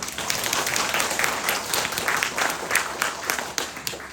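A church congregation claps together during a Lenten Sunday Mass, a dense, even roll of many hands filling the space, sustained and fairly loud.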